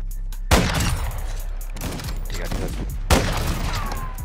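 Sniper rifle shots fired in an online video game: a few sharp, loud bangs spaced over a few seconds, each followed by a brief tail, over steady in-game background noise.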